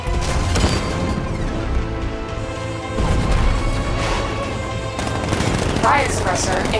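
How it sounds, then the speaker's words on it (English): A 60mm tank cannon in the Batman: Arkham Knight video game fires in dense, continuous bursts, loud and close, packed with sharp repeated blasts and metallic clatter that fill the whole stretch. "60mm cannon operational."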